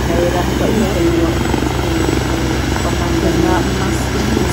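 A helicopter drones steadily overhead near a landing area in Wan Chai, Hong Kong, a loud continuous rotor hum with voices talking beneath it.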